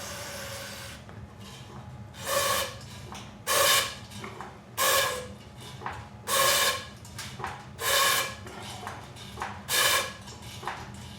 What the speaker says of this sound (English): So try to blast some of this out of there with carb cleaner.